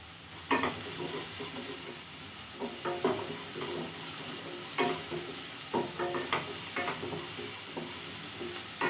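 Greens with salt, for vallarai keerai chutney, sautéed in a pan: a steady soft sizzle runs throughout, broken by scattered clinks and scrapes as a spoon stirs, close by and moderately quiet.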